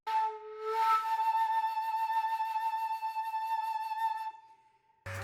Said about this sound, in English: the wind instrument, the shakuhachi, which sounds like this